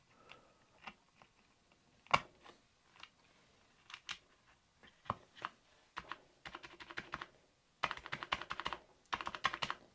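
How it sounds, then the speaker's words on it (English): A repaired return key on an Amiga 1000 computer keyboard is pressed repeatedly, producing crisp plastic clicks, sparse and spaced at first, then quicker clustered presses, close and quiet with no talking. "See if it's enough to actually pop the return key back up though."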